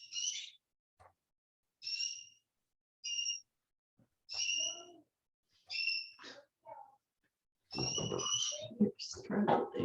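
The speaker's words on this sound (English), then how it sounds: "Well, birds are all out too in season." Birds call repeatedly outdoors in short, clear whistled phrases separated by pauses, with a denser burst of calls and faint voice-like sounds toward the end.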